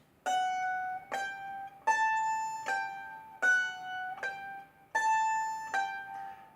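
A mandolin plays a short picked finger exercise, about eight notes stepping up and down in a steady, deliberate rhythm, close and clear.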